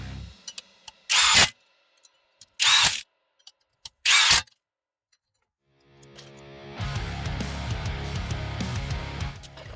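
Milwaukee impact wrench tightening rear brake bolts on a 2010 Toyota Prius: three short, loud whirring bursts separated by pauses, followed by a steadier mechanical rumble and clatter.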